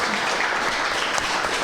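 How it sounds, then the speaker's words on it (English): Audience giving a round of applause to Professor Adi after a talk on Pan-Africanism, continuous dense clapping filling the room at moderate volume. "Please let's give another round of applause to Professor Adi."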